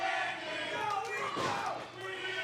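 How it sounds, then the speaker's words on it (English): A wrestling event crowd cheers and shouts in a continuous roar, swelling in the middle with voices rising together, heard at moderate distance with no clear commentary. "Crowd starting to get behind Tiffani Avatar right now as she fights back with shots to the sternum"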